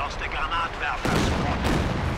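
LeFH howitzer artillery in the video game Company of Heroes 2, firing into the center: a dull blast lands under a commentator's voice, followed by a rumbling, noisy aftermath that partly covers the talk.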